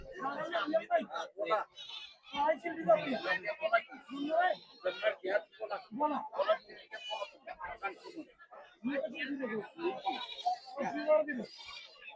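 Goats bleat repeatedly amid a busy crowd of people talking and chattering close by at a goat market in Peth Vadgaon.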